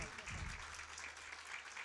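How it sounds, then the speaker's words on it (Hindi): Church congregation clapping during an Urdu sermon, a faint, dense patter of hands filling the short stretch without a break. "जोरदार तालियां"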